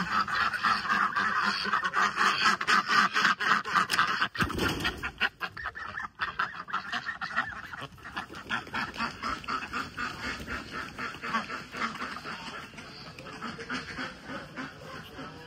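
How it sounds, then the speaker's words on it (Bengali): Pekin ducks, not yet let out of their pen, quack for food in a loud, dense chorus of overlapping calls that continues steadily throughout, close by. "হাঁসগুলো এখনো ছাড়া হয় নাই, এই খাবার জন্য প্যাক প্যাক করতেছে"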